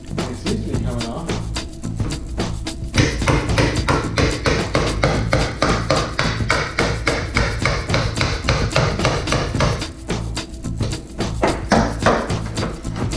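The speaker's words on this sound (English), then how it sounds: "Just kind of breaking all the seam sealer here, and it seems to be coming off." Rapid, uneven tapping and scraping as seam sealer is chipped away from a car roof on a BMW E92 drift build. The hits are close and almost continuous, with a short lull near the end.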